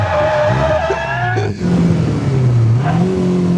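A car engine revs loudly and steadily while the car understeers and slides off the track into a field, the pitch dipping and then rising again, with tire noise under the engine.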